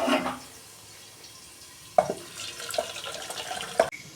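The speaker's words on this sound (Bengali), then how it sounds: "এই যে মাছের ঝোলটা আমি ঢেলে ফেলছি" Home-cooked fish curry made with mango is poured out, a wet splash at the start followed by a few sharp clinks of a utensil against a pot, with quiet pauses between.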